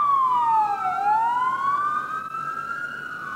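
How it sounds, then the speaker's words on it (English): An ambulance and several police patrol cars pass close by with loud, wailing sirens whose pitch sweeps down and back up, steady and continuous with no talking. "we got an ambulance and several patrol cars passing behind me right now"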